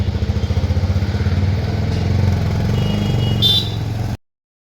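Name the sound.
motorbike riding out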